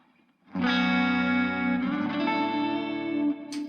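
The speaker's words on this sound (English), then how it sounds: "clean, super clean. Again, with a bit of chorus on it" A clean electric guitar chord through amp modelling rings out with a shimmering chorus effect and reverb, sustained and steady, followed by a second chord near the end.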